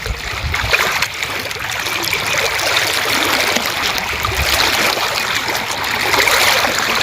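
River current flowing during a fishing outing: a loud, steady rush of moving water that continues without pause throughout.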